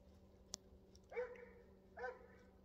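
Mountain cur hound barking on a raccoon trail at night, two distant bawling barks spaced about a second apart after a sharp click, faint in a quiet outdoor setting.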